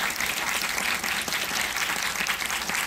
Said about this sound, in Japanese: 大きな拍手でお見送りください